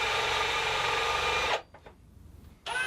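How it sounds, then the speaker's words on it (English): A steady whirring drill bores into a mahogany guitar body, continuous and close for about a second and a half, then stops briefly before resuming. "I'll remove the jig and finish drilling the depth by hand"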